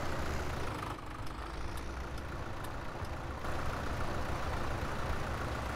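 A Kubota tractor engine in the Farming Simulator 17 video game drones steadily at a low, constant level while the tractor drives through shallow water, with no talk over it.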